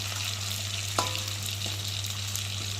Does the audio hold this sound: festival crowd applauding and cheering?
no